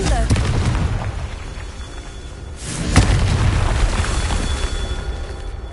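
A Confringo blasting spell in a game explodes with a loud, deep boom midway, a sharp crack followed by a rumbling tail over constant battle noise and a voice.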